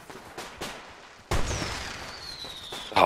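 Video game fireworks in a Warface free-for-all match on the Icebound map: a few muffled pops, then a louder burst followed by a long whistling streak and crackle, fairly faint overall.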